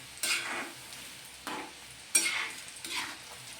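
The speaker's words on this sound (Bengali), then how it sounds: "এই চিকেনের পিসগুলো আমি সেকেন্ড ব্যাচে ভেজে নিচ্ছি।" A second batch of chili chicken pieces fries in oil, with four distinct scraping stir strokes over a faint, steady sizzle.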